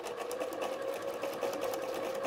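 A sewing machine back stitches across the tab of a cloth diaper with a steady, close, continuous mechanical whir and no talking.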